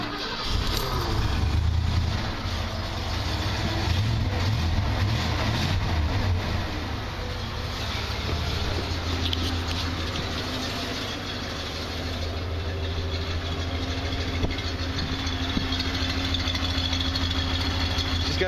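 Pickup truck with a 5.0 V8 engine turning over and settling into a steady, rumbling idle, loud and close with continuous low exhaust drone throughout.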